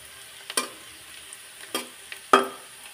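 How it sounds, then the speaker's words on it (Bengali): Garlic and chopped onion frying in a little oil, a quiet steady sizzle broken by three distinct spatula scrapes and taps against the pan, spaced about a second apart; no voices. "রসুন আর পেঁয়াজটা এভাবে ভাজি করলাম।"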